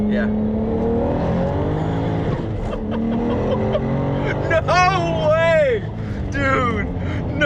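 A car engine revs and accelerates loudly, pitch sweeping upward, with tire noise and people talking and exclaiming over it.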